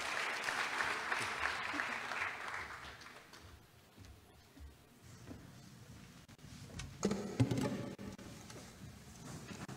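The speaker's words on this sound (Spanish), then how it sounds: "Un aplauso para ellos." An audience applauds a musical group at the opening ceremony of Centroamérica Cuenta 2019, clapping starting fairly loud, dipping quieter midway, then swelling again with some rustling and knocks near the end.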